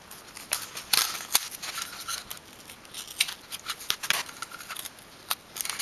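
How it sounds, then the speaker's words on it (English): Scissors cutting a strip of tape lengthwise, a close, quiet run of sharp snipping clicks at an irregular pace over a few seconds, no talking. "I want to cut this piece of tape, the top piece of tape, lengthwise in half, all the way"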